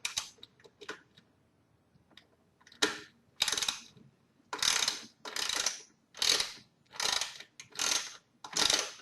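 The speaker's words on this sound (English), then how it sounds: "the first step is to remove this cover. Now it has one screw and two clips" A lawn mower's cooling system cover being worked loose, heard as a run of close, clicky ratcheting mechanical bursts that come scattered at first and then settle into a steady series of about seven evenly spaced rasps.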